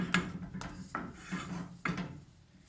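Several scraping strokes of a spoon dragging through thick choux pastry dough in a saucepan, drying it out, at an uneven, slow rhythm; quiet and close, no voices.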